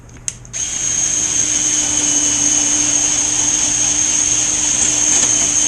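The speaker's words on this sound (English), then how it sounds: "I'm going to take this with the slow ass drill" A slow power drill bores into box hardware for a ZippKits Vbox Cracker Box build. After a couple of light clicks it settles into a steady, high motor whine that holds close and loud without a break.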